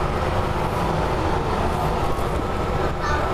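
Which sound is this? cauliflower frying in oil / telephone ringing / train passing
train passing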